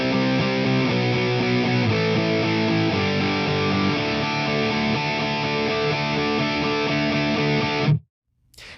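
A distorted electric guitar plays a walk-down of power chords from the chorus of a rock song, loud and sustained with no voices, then cuts off sharply into near silence.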